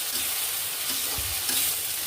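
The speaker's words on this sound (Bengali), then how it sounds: "পেঁয়াজটা কিছুক্ষণ ভেজে নেব" Onion paste frying in oil for a Bengali papaya and country chicken curry, giving a steady close sizzle with occasional stirring scrapes, no voices.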